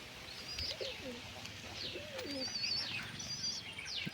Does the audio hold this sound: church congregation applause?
no